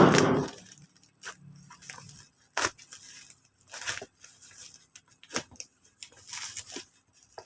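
A parcel box being cut open with scissors: an initial loud rip, then a series of short snips, crackles and tearing bursts of cardboard and tape, close and uneven, with no talking.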